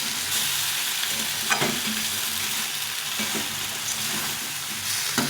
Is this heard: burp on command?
no